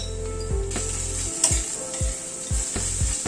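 Turmeric, coriander powder and Kashmiri red chili powder are stirred with onion, ginger and garlic in a hot pan, a steady sizzle marked by repeated scraping strokes of a spatula.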